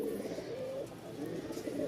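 Pigeons coo softly and repeatedly, a low, faint murmuring that runs continuously through the short stretch.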